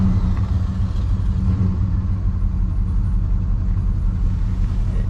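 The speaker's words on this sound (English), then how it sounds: "I'll go ahead and start it up for you, and you'll hear the compression" A 1968 Oldsmobile 98 V8 engine with uneven compression idles steadily with a deep, low rumble, loud and close, running alone without any voices.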